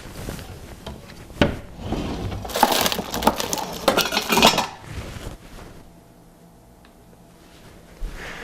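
An ingredient drawer in a kitchen is pulled open, a rattling, clattering rush of sliding contents and clinking items for a few seconds, then quiet.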